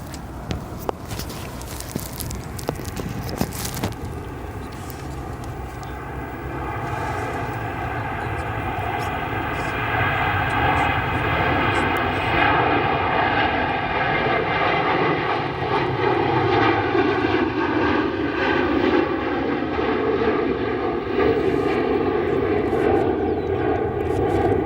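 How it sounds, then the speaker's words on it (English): A United Express Mitsubishi regional jet arriving on runway 28 center at O'Hare, its engine roar building slowly and holding steady with a whining tone, heard from a distance with some faint footsteps early on. "our next arrival here on runway 28 center is coming in from St. Louis, that Mitsubishi from United Express"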